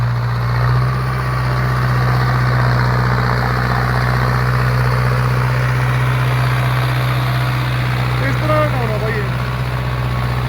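A tractor engine idles loudly and steadily with a deep, constant drone, close by in a ploughed field, while a voice speaks briefly over it.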